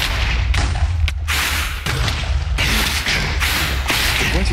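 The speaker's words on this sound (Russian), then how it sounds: "Я в него стрелы запускаю." Arrows loosed from a bow in Minecraft, a run of sharp whooshing releases and impacts in quick succession, loud and close over a steady low game rumble, with no talking.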